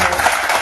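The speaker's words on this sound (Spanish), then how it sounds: "Dele palmas a Cristo" Brief burst of dense congregational applause at a church service, steady and close throughout the short moment, with a voice faintly present.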